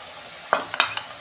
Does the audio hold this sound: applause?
no